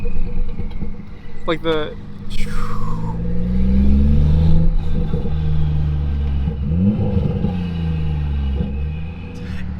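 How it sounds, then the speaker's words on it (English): A loud turbocharged BMW 3 Series engine revs and spools with whistling turbo sounds and rising, falling engine tones, heard from inside the car with a person speaking briefly over it. "I can't get over the turbo noises. It's so loud."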